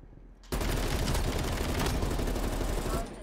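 Dense, sustained automatic gunfire from Call of Duty: Black Ops Cold War multiplayer, bursting in loudly after a brief quiet moment and continuing as a relentless rattling barrage of close shots.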